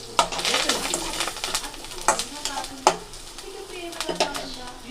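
Green gram frying in a pan with curry leaves and dried red chillies, stirred with a spatula: a steady soft sizzle with several sharp scraping clicks and taps spread across the clip, close and fairly clear.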